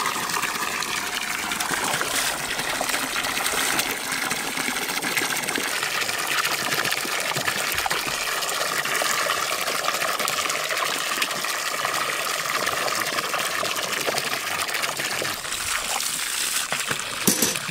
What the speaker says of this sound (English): We'll get this filled up and we'll get the mud water filled back up too.